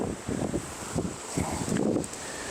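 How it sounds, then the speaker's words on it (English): Gusty wind blows outdoors beside a beehive, rushing in uneven surges across the whole stretch with a rough, buffeting rumble. "Way too much wind."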